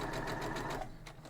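A sewing machine runs in a quick, rapid stitching rhythm, close and steady, then slows slightly near the end.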